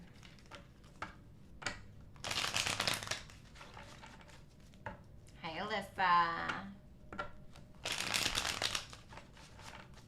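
Tarot cards are shuffled in several bursts of brisk riffling and slapping, close by, separated by quiet pauses, while someone speaks briefly in between.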